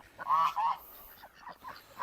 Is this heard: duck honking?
yes